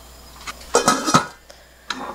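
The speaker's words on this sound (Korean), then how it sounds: "이렇게 해서 이제 뚜껑을 덮어 놓을게요" A lid set on a pot of chwinamul doenjang stew, a few close metallic clanks and rattles clustered in the middle, then a lighter knock at the end, no talk.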